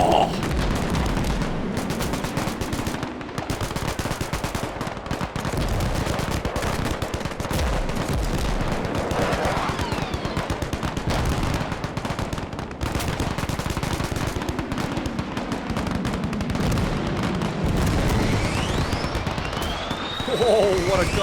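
Heavy sustained gunfire and explosions from an aircraft gun run during a Vietnam War hilltop firebase siege in a video game, with dense rapid bursts and booms throughout and a voice exclaiming at times.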